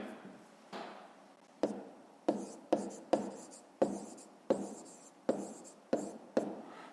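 A pen writes on paper during a Ukrainian 5th-grade maths exercise, giving a run of about ten short scratchy strokes in an uneven rhythm, close and fairly quiet, with no speech over them.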